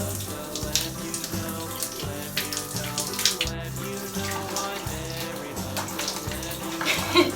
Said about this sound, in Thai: เปิดน้ำแรงๆให้แม่หน่อยค่ะ